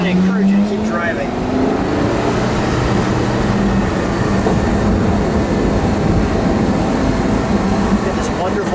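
A yellow 2005 Porsche Carrera GT drives along a road in second gear, its engine a loud, steady drone heard from inside the car with a brief rising tone at the start and continuous road roar throughout.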